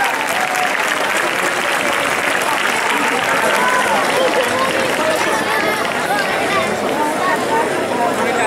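A crowd claps loudly and continuously at a high school graduation ceremony, a dense, even wash of applause filling the hall for several seconds.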